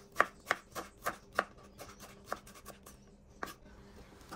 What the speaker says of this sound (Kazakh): Пиязды майдалап,